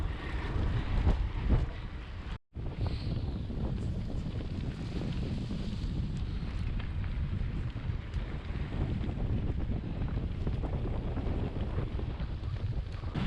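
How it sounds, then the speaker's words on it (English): Strong headwind roaring across the microphone of a rider cycling due east, a loud continuous buffeting rush with gusty surges and one brief dropout near the start. "Very windy. Riding due east into a, well, pretty much block headwind."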